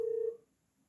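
A single short electronic ring tone sounds from a Bluetooth speaker as a phone call comes in, clear and steady for a moment before cutting to near silence.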